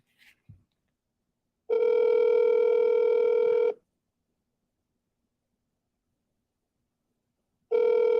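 An outgoing phone call rings back in the earpiece: a steady electronic ring tone lasting about two seconds, a long silent pause, then the next ring beginning, loud and clear with no voices.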